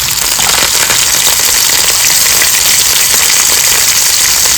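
Onion, curry leaves and coconut slices frying in hot oil in a pan for an egg curry, a loud, steady, dense sizzle that continues evenly throughout with no talk over it.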